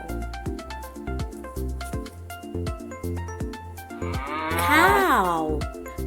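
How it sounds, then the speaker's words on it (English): A cow moos once, a long loud call with a gliding pitch, heard over a steady rhythmic backing of music. "Ow for cow."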